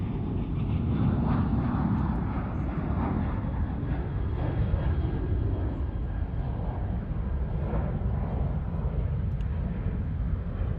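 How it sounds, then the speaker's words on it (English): An American Airlines Airbus A320 airliner at Charlotte Douglas International Airport gives a steady, loud, continuous jet engine roar that holds throughout without any talk. "this A320 is American 2268 out of Sarasota"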